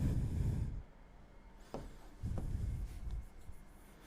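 Quiet scratching strokes of writing on a board or paper, a few short scrapes separated by pauses, close and faint with no talking.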